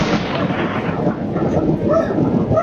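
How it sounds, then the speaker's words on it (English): Thunder from a lightning strike near a family's house in Arkansas, a loud, dense, sustained rumble that fills the whole moment with low roaring energy. "Lightning was like a direct hit."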